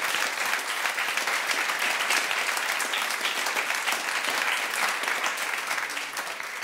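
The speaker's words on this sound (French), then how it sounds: "on peut applaudir quand même" Audience applause at a stand-up comedy show at the Comédie de Besançon, a thick, even patter of many hands clapping, steady and moderately loud for several seconds before easing slightly at the end.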